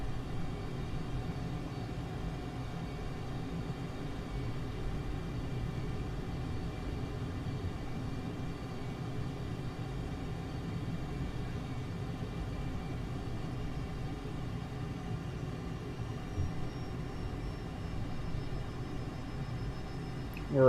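An F-22 jet on landing approach in the Microsoft Flight Simulator game gives off a steady low engine rumble with a faint airy hiss, constant and unbroken throughout.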